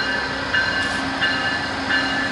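Steady rumbling of an old VIA Rail train with a rhythmic clatter repeating about every two-thirds of a second, continuous and fairly close, no voices.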